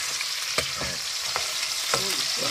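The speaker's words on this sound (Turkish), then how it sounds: "Bir yandan da biberlerimiz kızarıyor." Peppers fry in a pan over a wood fire, giving a steady close sizzle with a few louder scraping stirs and clatters scattered through.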